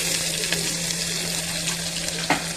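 Fried onion goes into hot mustard oil with whole spices for a mutton curry, giving a close, steady, crackling sizzle heard alone over a faint low hum, with a couple of sharper pops.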